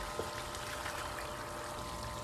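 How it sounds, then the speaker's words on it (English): Water streams steadily from the end of a hose fed by a small swimming pool pump, a faint, even pouring and trickling rush with no voices. "It's blowing that stream of water so stout."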